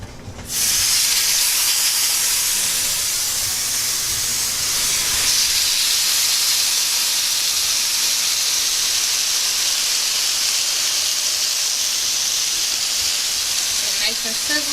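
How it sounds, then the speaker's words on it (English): Salmon sizzles loudly in a hot pot, a continuous hissing fry that starts abruptly and holds steady throughout. "Nice and sizzling. Make sure it's hot."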